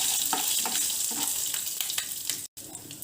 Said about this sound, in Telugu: మెంతులు వేయించుకోవాలండి